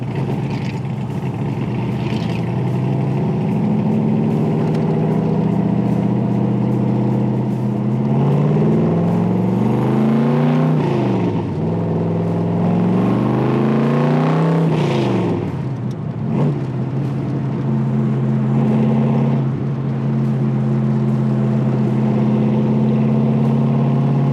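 A 1964 big block Corvette convertible engine fitted with a Holley Sniper runs steadily nearby, its deep rumble rising and falling through a couple of revs before settling back to a smooth idle.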